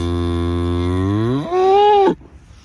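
A single loud, close cow moo on a mountain trail in the Tatra Mountains, starting low and rising into a strained higher pitch before cutting off abruptly.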